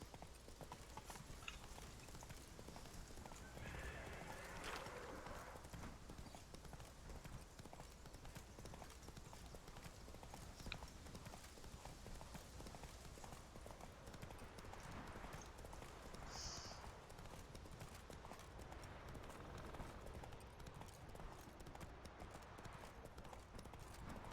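Roach the horse trots along in The Witcher 3, steady clip-clop hoofbeats running continuously for the whole stretch over a dense, busy game backdrop.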